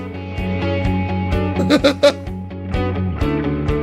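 Upbeat, polished synth music from the video game Idle Terra, in corporate presentation style, with steady chords and a light beat, a short bright phrase with a brief flourish midway.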